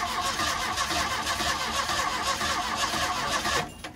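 A 1977 Ford Mustang II, off the road since 1989, cranks over with a steady, loud churning of the starter and engine for about three and a half seconds, then cuts off abruptly.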